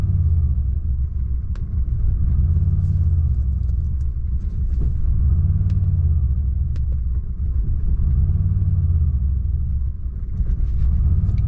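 A car engine running on a Megasquirt tune idles close and loud with a deep rumble that swells and dips in slow, regular surges as the idle hunts, running lean, a few light clicks over it.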